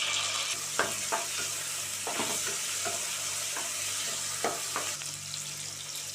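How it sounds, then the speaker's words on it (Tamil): Chopped onions, tomatoes and green chillies sauté in a pan for a chicken masala, giving a steady sizzle broken by repeated scraping strokes of a stirring spoon, close and with no talk. "வெங்காயம் தக்காளி வதங்கிருச்சு"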